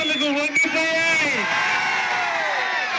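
A large crowd at a political rally yells and cheers in a loud sustained roar, with a few rising whoops standing out near the start before the noise settles into a broad wash.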